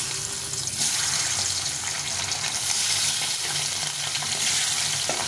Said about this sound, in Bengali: আরও কিছুটা তেল দিয়ে দিলাম, দিয়ে বাকি মাছগুলো ভেজে নেব।